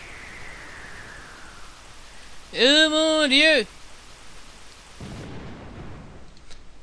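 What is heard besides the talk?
storm with rain and thunder in the video game Pokémon White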